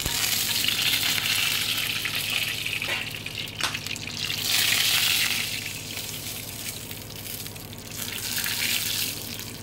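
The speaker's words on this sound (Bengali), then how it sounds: "তারপর দিয়ে দিলাম 5 ফোড়ন, তারপর দিলাম গোটা জিরে ফোড়ন, দিয়ে ফোড়নটাকে একটু আমি ভালো করে ভেজে নেব।" Whole spices, panch phoron and cumin seeds, frying in hot oil for a lentil and bottle gourd dish, a steady close sizzle that swells and eases with stirring, with no voices.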